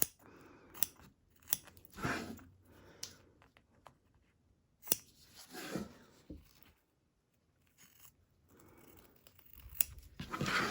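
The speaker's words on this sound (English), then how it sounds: "We are going to come in here and super cut super close to our super die line" Scissors snip vinyl close to a die line for a towel topper, with short crisp cutting bursts spaced by pauses, quiet and near, one brief silent gap midway.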